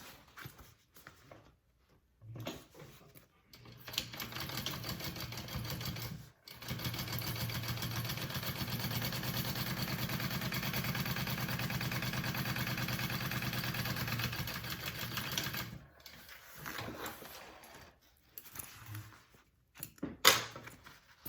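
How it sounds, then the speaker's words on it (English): A sewing machine top stitches a Bellezza handbag, running in one long, steady, even burst for about twelve seconds, with quieter handling noises before and after. "I'm going to top stitch this"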